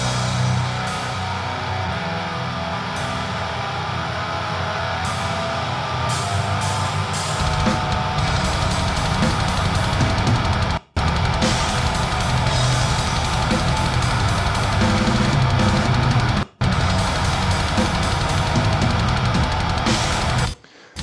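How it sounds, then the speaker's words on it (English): A DrumGizmo sampled acoustic drum kit plays a dense, full mix with toms, loud and continuous, cutting to silence briefly twice, with no talk. "So what you're hearing now is the DrumGizmo drums."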